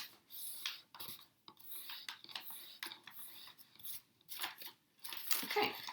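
Paper is folded by hand into a box edge, with crinkling, rustling creases and soft scraping bursts coming and going close up, ending in a louder crackle.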